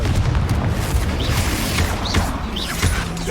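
Fiery Confringo spell blasts in Hogwarts Legacy during an arena battle, a dense rumbling boom with crackling bursts that stays loud and continuous, with short whooshing streaks layered over the roar.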